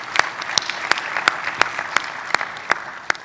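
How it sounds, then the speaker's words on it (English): A conference audience applauds a wildfire technology panel, brief clapping with distinct individual claps standing out in an irregular rhythm, close and moderately loud, no talk over it. "I think we should give these folks a round of applause."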